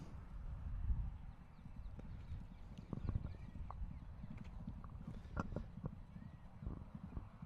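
Polo horses' hooves clip-clop across the field at a Dubai Gold Cup match, a dense, irregular drumming of many hoofbeats at moderate distance, steady throughout without talk.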